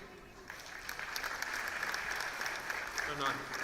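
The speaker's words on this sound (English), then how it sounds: "Let's give them a huge round of applause for their imagination and energy" Audience applause for students at a school annual day, a dense round of clapping that builds quickly and holds steady, with faint voices mixed in near the end.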